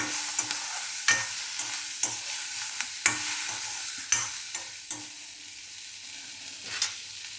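Tomatoes being sautéed in a pan for manathakkali soup: a constant frying sizzle with repeated crisp spatula scrapes every second or so, close and fairly loud, and no voices.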